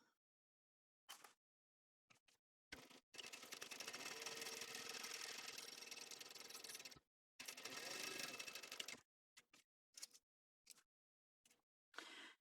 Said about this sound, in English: now I want to sew across the top using a 1/4 inch seam allowance